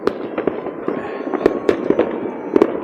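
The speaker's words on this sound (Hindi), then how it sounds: "ये वो आया है पटाखा मजे का।" Fireworks and firecrackers exploding at a New Year 2025 celebration in Norway, with repeated sharp bangs and pops spread irregularly over a constant crackling background, some bursts nearby and loud, others fainter in the distance.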